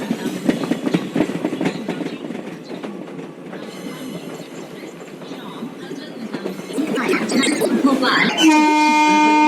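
Railway station platform 5 in India with a train standing alongside: a steady rumble and clatter of rolling stock under a busy crowd, then a chiming tone and a public-address announcement at the end.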